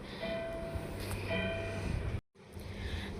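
Steady rumbling hum of a moving metro train heard from inside, with a faint high whine, then a brief sharp dropout before the rumble resumes.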